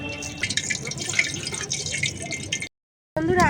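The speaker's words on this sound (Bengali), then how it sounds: "আমি তেলটা ঝরিয়ে এটা তুলে নেব" Oil drips and trickles off fried chicken patties lifted from a pan, a steady close patter of dripping liquid that cuts to a short silence before a brief bubbling sizzle.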